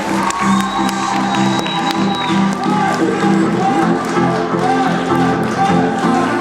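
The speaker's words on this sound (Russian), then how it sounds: "Громкие аплодисменты!" Loud crowd at a rock festival cheering and applauding for a rock band, a steady dense roar of clapping and shouts that fills the whole stretch, with some voices mixed in.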